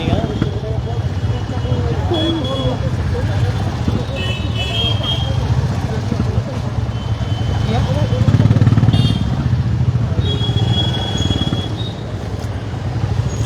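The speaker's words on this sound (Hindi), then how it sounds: "फिलहाल आप देख पा रहे हैं मेरे पीछे सभी बाइकर्स रेडी है" Motorcycles gathered for a World Cancer Day bike rally outside Kanchenjunga Stadium in Siliguri give off a steady, loud engine rumble and idling drone throughout, with someone talking over it.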